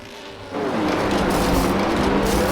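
Formula 1 race cars in the pit lane of an F1 video game at the Australia round give a sudden rise into a steady engine drone with a rising whine.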